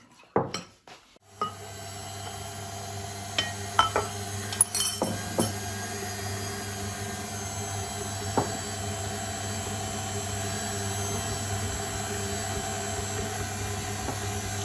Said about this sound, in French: nous allons l'incorporer à la farine en mettant le robot sur la vitesse 2